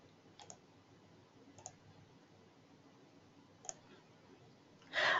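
A computer mouse clicks three times, spaced and faint, against a quiet background hiss, followed by a brief louder burst of rustle at the very end; no one speaks.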